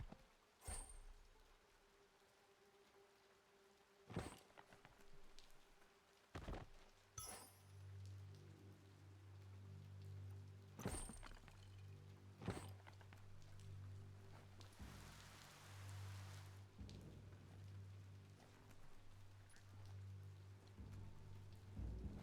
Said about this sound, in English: Oh no! Rain!